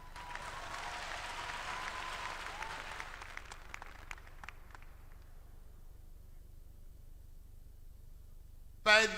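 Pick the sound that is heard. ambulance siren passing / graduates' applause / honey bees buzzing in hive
graduates' applause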